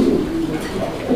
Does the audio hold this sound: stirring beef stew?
no